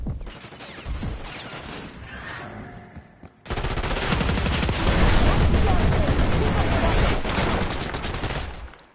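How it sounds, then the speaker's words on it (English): Call of Duty Black Ops 6 firefight: scattered shots at first, then a sudden loud, sustained wall of automatic gunfire rattling on, with voices heard early. "Shoot them!"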